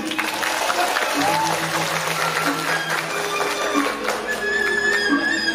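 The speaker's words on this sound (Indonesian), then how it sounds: "Tepuk tangan sekali" Audience at a Balinese drama gong comedy performance clapping in unison, a single sharp burst standing out against a busy background with speech, humming and music.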